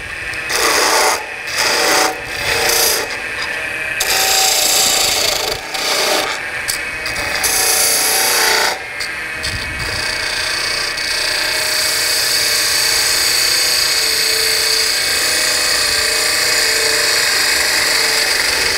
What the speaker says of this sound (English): I've got to bring the bevel around so that the cutting edge is pointing in the direction I want to go to make a nice round or bead type cut there.